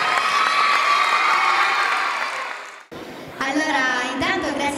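Crowd applause and cheering for a singer at a live show in Ragusa, a dense roar that fades out near the three-second mark before a voice takes over and keeps speaking over the lingering noise.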